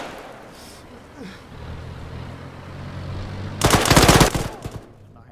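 Automatic gunfire from an Arma 3 battle, a dense burst of rapid shots erupting loud near the end over a low vehicle engine rumble.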